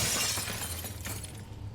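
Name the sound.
glass breaking in a Source Engine video game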